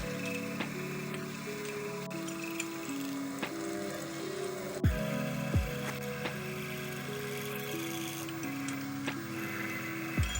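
Milling machine cutting the ricasso relief on a seax blade, a steady machining hum with stepped tonal shifts and occasional sharp ticks and knocks, moderately quiet and continuous.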